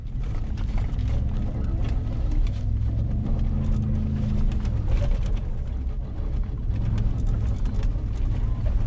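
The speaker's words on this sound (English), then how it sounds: "Time to drift the old Ford. See how slippery it is." An old Ford drifts on slippery snow, its engine rumbling low and steady at close range throughout, with faint squeaks and mechanical noise over the top.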